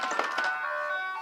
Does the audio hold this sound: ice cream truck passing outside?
yes